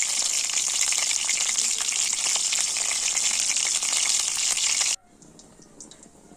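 Chicken frying in a generous amount of oil gives a steady, loud, close sizzle that runs unbroken for about five seconds and then cuts off sharply, leaving only faint room noise.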